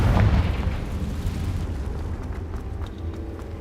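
Loud, booming fiery blast from the Confringo spell in Hogwarts Legacy, a heavy low-end burst at the start that rumbles and slowly fades.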